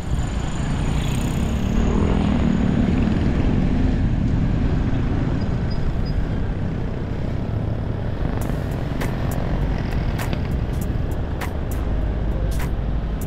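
An automatic motorcycle ridden on the road, engine and wind noise roaring steadily and close throughout, with a few faint clicks near the end.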